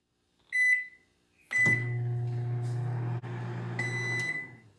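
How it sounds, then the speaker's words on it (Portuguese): A microwave oven melting gelatin: a short beep, then a louder beep as the steady low hum of the running oven starts, briefly interrupted by a click, then continuing with a few more beeps. "Então, micro-ondas de 10 em 10 segundos."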